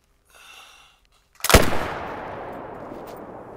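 A single Frost 257 rifle shot fired at a target 500 meters away in theHunter: Call of the Wild, a sharp loud crack followed by a long rolling echo that fades slowly across open terrain; brief faint noise precedes it.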